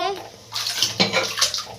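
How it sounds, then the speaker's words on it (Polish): Water poured out of a container in one close, fairly loud rushing splash that runs for under two seconds, with a faint voice in the background. "Już wylejemy wodę"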